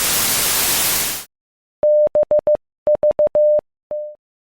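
An FT8 digital radio signal decoded on a phone: a burst of loud static cuts off, then steady tones beep in short rhythmic pulses and a few longer holds, clear and alone.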